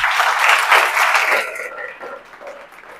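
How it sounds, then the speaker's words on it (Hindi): Students in a classroom clap together in a dense, loud burst that thins and fades over about three seconds, with no talking over it. "इसके लिए भी ताली बजनी चाहिए।"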